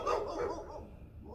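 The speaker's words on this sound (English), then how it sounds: "You can tell it's a nice day, the dogs are barking." A dog barks outside on a nice day, a short muffled bark or two heard faintly from a distance behind indoor room tone.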